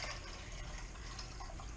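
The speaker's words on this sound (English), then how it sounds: "So I've already added 6 cups of water." Water from a tap running into a measuring pitcher, a steady close fill at low level for a couple of seconds, with no speech.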